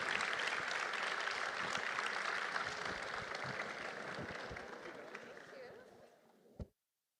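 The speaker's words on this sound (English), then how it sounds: "A big round of applause for Majid, Dr. Reem and Natasha" Round of applause from an audience for three panelists at an urban future event in a museum, a sustained dense clapping wash that stays steady, then fades and stops abruptly near the end.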